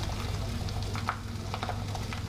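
Sea bass fillets frying skin down in a very hot pan, giving a steady, close sizzle with scattered crackles and pops over a brief moment.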